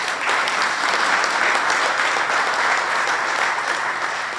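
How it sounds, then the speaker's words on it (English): An audience at a Veterans Affairs office grand opening at a senior center gives a steady, full round of applause, even and sustained from start to finish with no talk over it. "Give Brad a nice round of applause."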